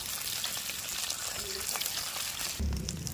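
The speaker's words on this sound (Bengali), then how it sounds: "মাছগুলো ভাজা হয়ে গেছে এবার নামিয়ে নেব" Small fish sizzle in hot oil in a pan, a steady close hiss and crackle that continues under a voice talking.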